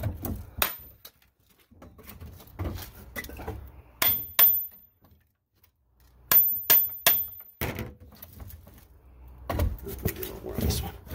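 Hammer blows and a pry bar levering boards off a wooden pallet, with sharp knocks and creaks in separate bursts between pauses, close by, while someone talks intermittently.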